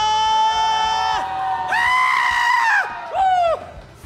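Congregation at a Korean church New Year revival service shouting loudly in praise, three bursts of massed high voices rising and falling, with musical accompaniment underneath.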